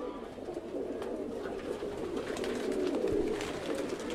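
Pigeons coo in a low, steady murmur, several birds close by in a loft, with soft overlapping calls throughout and faint rustling.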